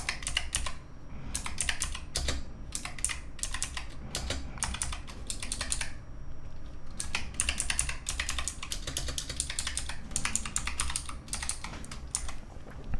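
Steady, quick typing on an optical mechanical keyboard, crisp clicky keystrokes in bursts with brief pauses and an occasional ting, close and fairly quiet.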